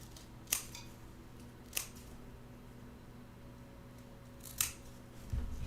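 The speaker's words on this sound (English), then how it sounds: "And so I'm just cutting away the bits that I don't like." Scissors cut fabric for a quilted table runner in three crisp, close snips spread out over a quiet room, followed by a soft rustle of handling at the end.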